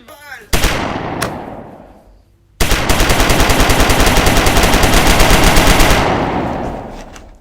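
Loud, sustained machine gun fire from a video game: a short burst, a pause with fading echo, then an unbroken rapid stream of shots lasting several seconds before cutting off, with no talking over it.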